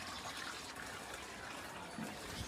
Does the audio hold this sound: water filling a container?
yes